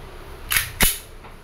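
A WE Glock 34 Gen 4 G-series gas airsoft pistol fires two sharp, close, snappy shots about a quarter second apart against a quiet background.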